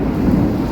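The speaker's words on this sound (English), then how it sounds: "It's so loud, it's like constant thunder." Heavy thunder in a tropical thunderstorm in Malaysia, a deep continuous low rumble that swells slightly in the middle and dominates the moment, with no voices.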